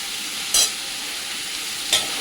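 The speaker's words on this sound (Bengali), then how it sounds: "এটা ভালো করে ভাজা হোক" Chicken fries in a pan for a thin home-style chicken curry, a steady soft sizzle broken by two short, sharp stirring scrapes about a second and a half apart, with no talking.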